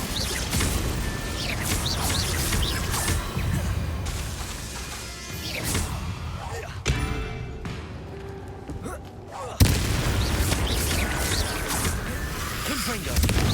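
Confringo fire-blast spells in Hogwarts Legacy set off repeated crashing explosions and whooshes during combat, loud and closely spaced. A short quieter gap falls near the middle, then a sharp blast, and voices speak over the action.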